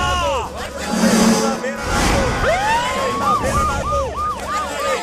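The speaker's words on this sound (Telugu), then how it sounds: "మినిస్టర్ గారు కార్ దగ్గరకు వచ్చేసారు కదా, సైరన్ ని మోగించరా" Loud wailing vehicle siren, repeated rising and falling sweeps close by, with traffic noise and voices mixed in.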